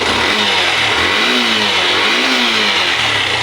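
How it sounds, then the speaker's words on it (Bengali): A Yamaha FZ BS6 motorcycle engine runs steadily and loudly nearby, with a couple of gentle swells in pitch like light revving. "এর স্টার্টিং আর এর ইঞ্জিনের সাউন্ড এত সুন্দর হয়"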